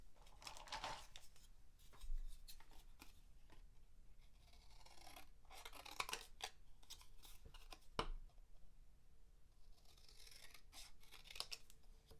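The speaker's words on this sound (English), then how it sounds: "I think I'm just going to cut this with scissors." Intermittent snipping and rasping of scissors cutting through card-making paper, close by, in irregular bursts with short pauses, no talking.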